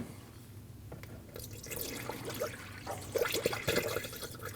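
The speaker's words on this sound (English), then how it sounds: "Now you can fill your radiator." Coolant poured into the radiator of a 2012-2021 Nissan NV2500 with a 5.6L V8, a gurgling trickle of liquid with drips and splashes that grows louder partway through, close by, no talking.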